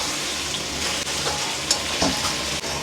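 Chicken fries steadily in hot oil with ginger garlic paste, a dense continuous sizzle close by, broken by a couple of brief stirring scrapes.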